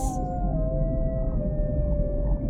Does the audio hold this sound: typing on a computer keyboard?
no